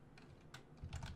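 Java code being typed on a computer keyboard, a quick run of soft key clicks with a few louder taps, close and quiet.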